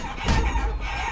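Chickens clucking in the video game Guacamelee, a short burst of squawky fowl calls over a low game backdrop.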